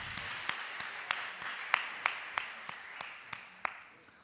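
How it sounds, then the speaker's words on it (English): Slow, evenly spaced hand claps ring out faintly in a university first-years' welcoming and orientation gathering, a sparse round of roughly a dozen claps for a student. "Give him a round of applause."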